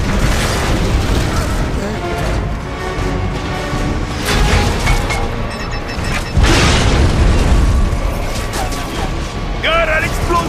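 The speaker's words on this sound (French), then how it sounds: "Gare à l'explosion." Explosions in the Gears of War 3 video game, with heavy booms and rumbling blasts over a dense, loud mix of mechanical game effects, plus a sudden louder burst partway through.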